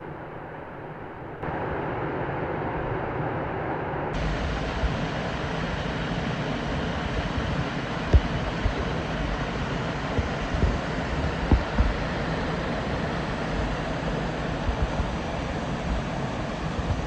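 Zealand Falls waterfall beside a mountain hut, a dense continuous rushing roar of water heard up close, steady and loud without pauses, with occasional faint knocks and no talking.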